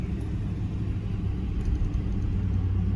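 A 2015 Ram truck with a rebuilt RFE transmission drives along with a steady low engine rumble and road noise, the drone holding fairly even through the gear changes, close and continuous with no talk.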